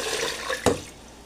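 Water poured into a cooking pot over garlic, onion, chives, chicken cube and seasonings for simmering chicken feet, a short splashing burst that swells then fades, with no talking.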